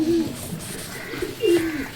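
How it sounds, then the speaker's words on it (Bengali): Domestic racing and flying pigeons coo softly at close range, two low burbling coos at the start and near the end over a quiet background with faint chirps. "এখানে পাল্লার কবুতরগুলো আছে, ওড়ার কবুতরগুলো"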